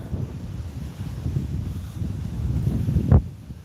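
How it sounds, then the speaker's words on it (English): Strong wind buffets the microphone on a beach, a steady low rumble with a brief louder gust near the end and no talk. "Is it unbearably windy?"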